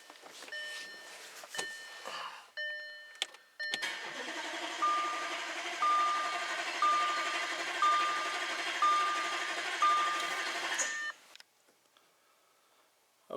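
A 2014 Audi RS5 4.2 V8 cranking over for about seven seconds, a steady whirring churn under a regular series of electronic beeps, after several short taps and starts.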